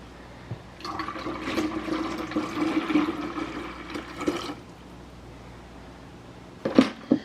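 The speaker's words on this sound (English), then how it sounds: "And I'm going to add 2 cups of filtered water." Two cups of filtered water pour into a pitcher for an apple ginger drink, making a steady splashing rush for about four seconds. A short clatter follows near the end. There is no speech.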